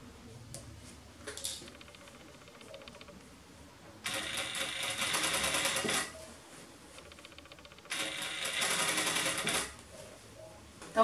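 A sewing machine stitching trousers runs in short bursts: a brief whir, then two longer rapid clattering runs of stitching separated by quiet pauses, close and clear.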